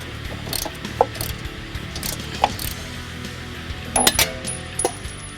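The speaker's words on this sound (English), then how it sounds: "Now we're going to remove the bolt that we used to open up the spindle." A ratchet clicks in short bursts while a bolt is backed out of a Ford Focus ST spindle, with metallic clinks and tool taps between the bursts, close and moderately loud.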